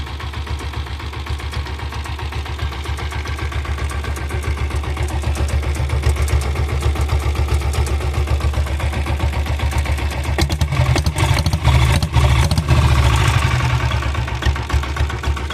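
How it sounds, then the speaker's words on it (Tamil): A vintage Royal Enfield Bullet motorcycle with a diesel engine runs steadily at slow speed, its loud, even, rapid thumping close by and continuous throughout, growing slightly rougher toward the end. "வண்டி பார்த்துக்கோங்க ஸ்லோ ஸ்பீடு ஓடுது"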